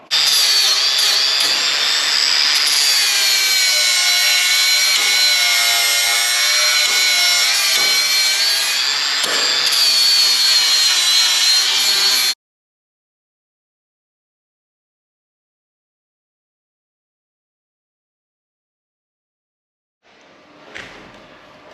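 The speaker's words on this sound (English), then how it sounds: "Then we'll move over to cutting the mild steel flat plate, prepping that" A power saw cuts mild steel flat plate in one loud, continuous high-pitched screech lasting about twelve seconds, stopping abruptly into silence before a faint brief noise near the end.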